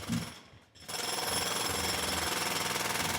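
Drill running in a survival video game, a loud, continuous mechanical rattling hammer that starts after a short dip and then holds steady, close and alone.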